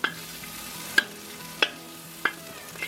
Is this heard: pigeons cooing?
no